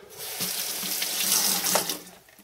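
Tap water runs steadily into a sink while a glass wine bottle is washed during cutting, a close, continuous splashing rush with small shifts as the bottle moves under the stream.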